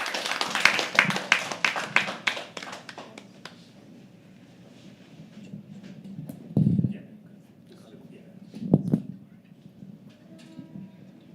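Audience applause at a live poetry open mic as the next performer walks on stage, dense clapping for a few seconds that thins out to scattered claps and quiet room noise.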